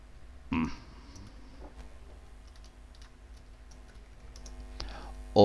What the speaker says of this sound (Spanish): acá empiezo a sufrir con mi teclado mal configurado